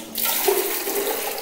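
Water is poured steadily from a jug, a lota, as pure water is used for a ritual washing of the dead, a continuous close splashing rush that runs without a break and with no talk over it.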